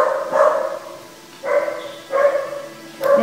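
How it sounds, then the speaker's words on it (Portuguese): A small dog barks in short bursts, four separate barks spaced about a second apart, close and fairly loud with quiet gaps between them, no talking over it. "Minha cachorrinha Tiva está latindo aí, fazendo barulho"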